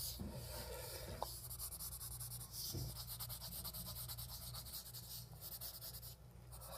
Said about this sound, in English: I have traced all the lines, I believe, enough as reference points.